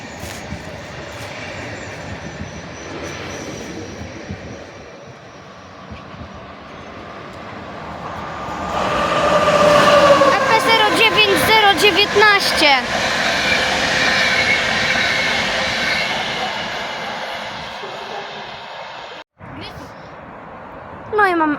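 Trains, including one hauled by an EP09 electric locomotive, pass through Warszawa Włochy station in Poland. A low rumble swells into loud rhythmic clatter of wheels over rail joints with some squealing, then fades away near the end.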